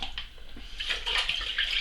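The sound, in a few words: rinsing octopus under cold running water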